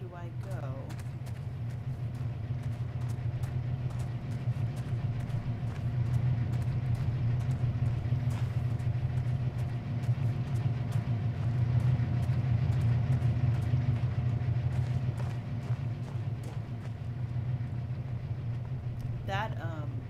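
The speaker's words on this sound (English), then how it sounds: "train engine actually sounds like a guitar riff" Steady rumbling train engine drone in the video game Obduction, a low humming tone with a rhythmic chugging texture, continuous and moderately loud throughout, with faint clicks on top and no talk.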